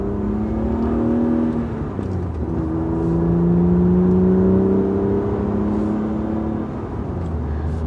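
A BMW E36 M3 driving on the road, its engine note steady and close throughout, rising and falling gently with throttle and gear changes.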